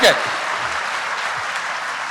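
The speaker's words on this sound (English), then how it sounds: "Give them a beat while they clap." Guests at a business awards luncheon clap in a broad, even wash of applause after a brief voice at the very start, with the clapping staying steady and moderately loud throughout.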